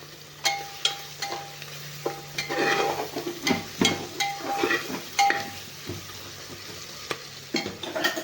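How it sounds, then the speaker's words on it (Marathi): Tomato, onion, ginger and garlic sautéing in a pan for a veg biryani pulao, a steady sizzle broken by repeated sharp clinks and scrapes of a spoon stirring against the pan, close up with no talking. "टमॅटो कांदा आणि अद्रक लसूण चांगलं आपल्याला चांगलं मस्त परतून घ्यायचं आहे"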